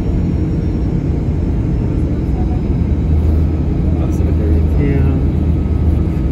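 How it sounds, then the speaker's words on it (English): An airliner landing at Budapest, Hungary, heard from inside the cabin as a loud, steady engine and airflow rumble with no break throughout. "We are landing now, guys, and welcome to Budapest, Hungary."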